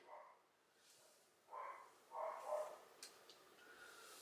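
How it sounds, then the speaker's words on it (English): A pet dog barks indoors several times at a moderate distance, in short bursts spread across a few seconds against quiet room tone. "what is Chai barking at?"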